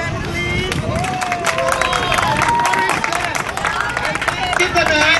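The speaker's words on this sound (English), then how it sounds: "Round of applause for them, please." An outdoor crowd at a charity drive race applauds the winners, with scattered clapping and cheering under loud overlapping chatter and children's voices throughout.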